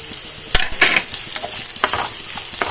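Sliced shallots, three green chilies and curry leaves frying in coconut oil: loud, close crackling sizzle with sharp pops and spatula scrapes throughout, no talking.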